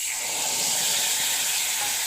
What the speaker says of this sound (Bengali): তেল এখন তো গরম হয়ে গেছে, এবার আমি দিয়ে এলাম মশলা